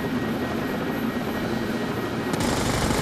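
A combat helicopter in the tactical shooter game Rainbow Six Vegas 2 thrums loudly and steadily with rotor chop, a continuous close roar that swells slightly near the end.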